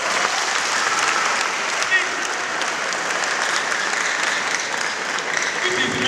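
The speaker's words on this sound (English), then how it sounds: "I want to see a round of applause." Sustained applause from an office orientation audience, a dense, steady wash of clapping at even loudness throughout.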